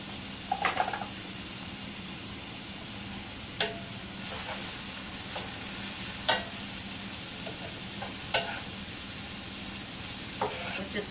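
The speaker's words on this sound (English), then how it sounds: "Just saute this for maybe 4 or 5 minutes." Vegetables for stuffed grape leaves sauté in a pan with a soft, continuous sizzle, broken by occasional scrapes and clicks of a spoon stirring them, quiet and close with no talking.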